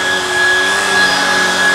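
A Shark Vertex cordless vacuum runs over a high pile rug, giving a loud, steady, close-up motor whine with airy suction hiss and no talking.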